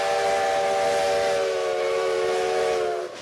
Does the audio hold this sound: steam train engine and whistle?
yes